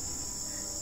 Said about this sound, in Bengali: আশেপাশ থেকে ঝিঝি পোকার ডাক ভেসে আসছে।